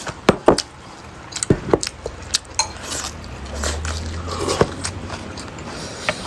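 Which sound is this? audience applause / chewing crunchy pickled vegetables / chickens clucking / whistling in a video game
chewing crunchy pickled vegetables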